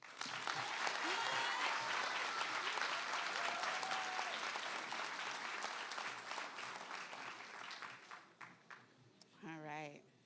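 A crowd at a high school graduation ceremony gives sustained, loud applause for the commencement speaker, thinning out near the end as a voice begins speaking.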